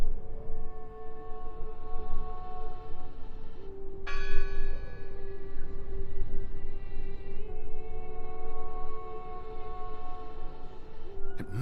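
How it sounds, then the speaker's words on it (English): A bell tolling in the video game Draugen, ringing out with long sustained metallic tones, a fresh strike about a third of the way in and another later, over a steady low ambient rumble. "It must be her ringing the bell."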